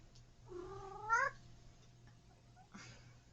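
A cat gives a single drawn-out meow, close and fairly clear, followed by a shorter faint call a moment later over a quiet low hum.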